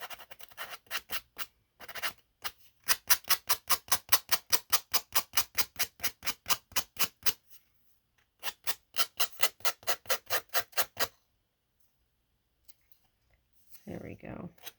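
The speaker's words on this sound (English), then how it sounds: "Let me just sand that part of her ear quick" A wooden craft piece is sanded by hand in quick, evenly spaced back-and-forth rasping strokes, close and crisp, in two runs separated by a brief pause, then a short voice near the end.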